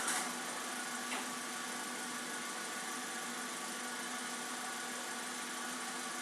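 A car engine idles steadily during a check for combustion gas in the coolant, with oil found in the antifreeze; a faint, even hum runs throughout at low level with no talking.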